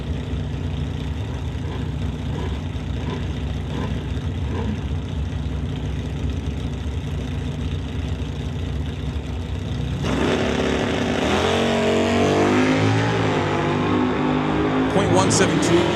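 A Chevy Camaro and a 90s Ford Mustang Fox body sit at a drag strip, a loud engine idling roughly before revving up hard, with a voice heard over the engine noise.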